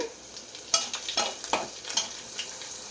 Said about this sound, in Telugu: ఉప్పు పసుపు వేసాను కాబట్టి తొందరగా ఉల్లిపాయలు అయితే మగ్గిపోతాయి. మూత పెట్టేశాను.